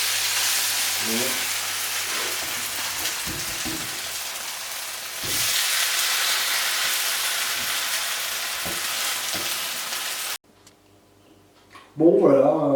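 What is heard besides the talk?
stuffed Darphin potatoes frying in a pan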